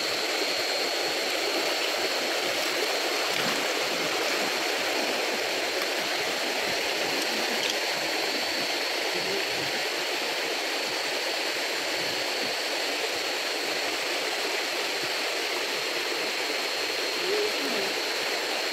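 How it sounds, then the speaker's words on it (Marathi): A small stream flows steadily nearby at night, a continuous even rushing hiss of water with no breaks, heard alone without talk. "आपण आलोय ओढ्यावरती पोचलो आहे"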